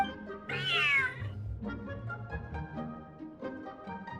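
A cat meows once, high and drawn out, in the video game Genshin Impact, over a low game soundscape with no voices.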